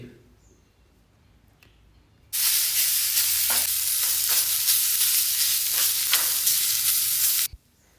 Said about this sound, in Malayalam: ഇനിയിപ്പോൾ നമുക്ക് ഇഞ്ചി വെളുത്തുള്ളി പേസ്റ്റ്